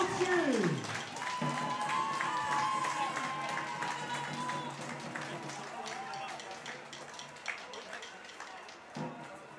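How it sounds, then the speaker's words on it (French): Crowd applause and cheering for the stilt-fighting champion at the Wallonia festival in Namur, diffuse clapping in a noisy outdoor setting, mixed with background voices, a passing whistle-like tone and music, fading toward the end. "On applaudit la championne publique namurois et venue d'ailleurs du monde entier."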